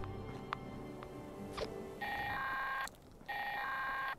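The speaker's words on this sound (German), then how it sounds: "Dies ist ein Alarm aufgrund eines atomaren Zwischenfalls." Warning alarm at a nuclear power plant in Fallout 76, sounding as loud sustained electronic tones in two long bursts separated by a short gap, following a few faint clicks.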